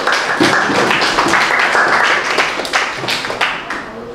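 Scattered clapping from students in a classroom, uneven and fairly close, with individual claps standing out rather than a dense roar.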